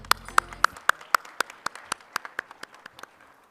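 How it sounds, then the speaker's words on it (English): Audience at a business school orientation program for BBA honors students in Bengaluru gives a round of applause, heard as distinct, evenly spaced claps that gradually soften, with no talking. "A huge round of applause to them"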